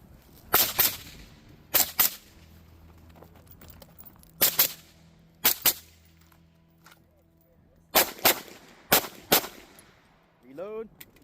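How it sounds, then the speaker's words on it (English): An 11.5-inch AR-15 fighting rifle fires while the shooter moves, in sharp loud paired shots spread across the stretch, roughly eight cracks with quiet gaps, and a brief voice at the close. "shooting while moving for the first 2 hammered pairs"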